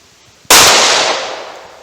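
A single 9mm gunshot, Remington HTP 115 grain +P from a 4-inch barrel, cracks sharply after a brief quiet and then trails off in a long, fading outdoor echo.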